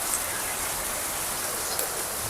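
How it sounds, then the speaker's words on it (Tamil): Steady rain pours down in a rural village, a dense continuous hiss of drops on surfaces that stays loud and even throughout, with no voices. "மழை பெய்யுது பாருங்க."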